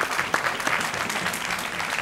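Studio audience applause on a live Spanish-language talk show, a brief burst of dense, even clapping at close range that stays steady from start to finish.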